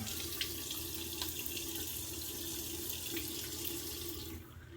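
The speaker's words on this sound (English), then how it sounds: "We're going to wet the face real quick." A bathroom tap runs steadily to wet the face before shaving, a close, continuous hiss of water into a sink that fades slightly at the end, with no talking.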